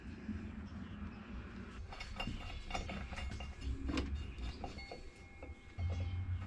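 Sprocket bolts on a Harley-Davidson drive being threaded in by hand, heard as small, scattered metallic clicks and scrapes over a low, steady garage hum.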